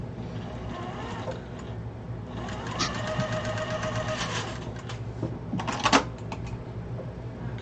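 A sewing machine stitches two quilt fabric pieces together for a pillow or wall hanging, a steady mechanical whir with rapid needle clatter that swells midway and ends in a brief louder burst.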